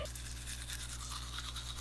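Steady, rapid scrubbing of a toothbrush with activated charcoal powder against teeth, close and continuous, with a faint low hum underneath.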